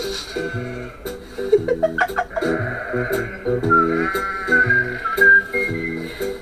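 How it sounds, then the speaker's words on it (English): Close, steady bleating from a flock of sheep on a farm, with repeated overlapping calls and a high whistle-like tone drifting through, and no talking. "And there are a lot of sheep here."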